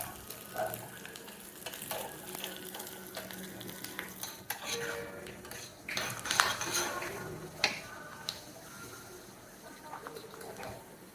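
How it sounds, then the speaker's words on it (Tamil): Cashew nuts frying in a pan until golden, a soft sizzle under repeated scraping and stirring with a metal spoon against the pan, close and fairly quiet. "முந்திரி பருப்பு, நல்லா கோல்டன் கலர் வறுத்து எடுத்துருங்க"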